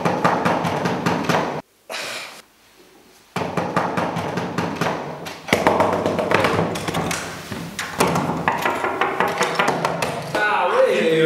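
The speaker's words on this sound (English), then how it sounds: "I've been banging this door for like 5 minutes." Repeated heavy thumps of fists pounding on a door, a dense run of loud irregular blows broken by a couple of brief pauses, close and forceful throughout.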